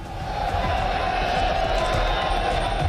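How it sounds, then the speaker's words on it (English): A dense crowd of pilgrims gathered for the Shahi Snan holy dip at the Mahakumbh in Haridwar, heard as a steady, unbroken roar of many voices with indistinct murmuring and chatter. "Massive crowds"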